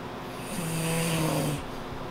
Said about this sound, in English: I like to snore, apparently.